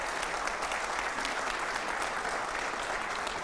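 A live audience at a comedy and Constitution event claps steadily, a dense, even wash of applause that holds at full strength throughout with no voices on top.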